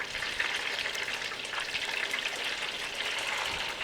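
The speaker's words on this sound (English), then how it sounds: "And we're letting the other 3 fry up too." Egg rolls deep frying in hot oil, giving a steady, dense crackling sizzle that holds at an even loudness throughout with no voices.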